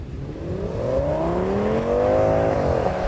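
An Audi S8 pulls hard off the line in a drag race, its engine note climbing steadily through a long, loud rev, with a brief dip around a gear change before rising again, heard close and without talk.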